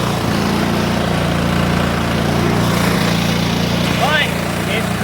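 A Cub Cadet HDS lawn tractor engine runs steadily up close as the machine drives, with its PTO not working and a shaky fuel setup; a voice speaks briefly over the constant drone.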